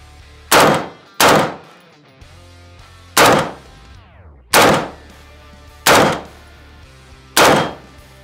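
A SCAR rifle fires six loud, separate shots into an RMA ballistic plate outdoors in Texas, each sharp crack spaced about a second apart and followed by a short echoing decay, with no talking between them.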